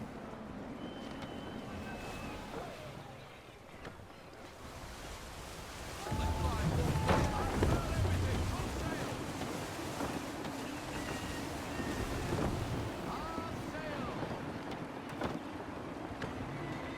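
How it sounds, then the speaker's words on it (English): Gusty wind over open water in Assassin's Creed III, with a steady rushing broadband roar that surges louder from about six seconds on, mixed with sea and boat noise. "Gusty winds can be difficult to manage."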